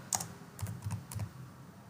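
Short burst of computer keyboard typing while entering Python code, a handful of light clicky keystrokes close to the microphone in a quiet room.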